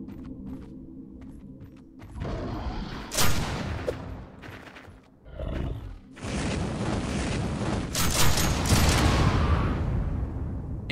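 A barrel explodes in the video game Project Stray, a sudden loud burst followed by rumbling crackle, then another heavy blast that settles into a dense, sustained roar of debris and fire, with no one speaking.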